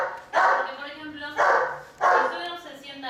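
A female dog barks three times in slow, even succession, close and fairly loud, with a whiny edge to each bark, in a training session at a gate.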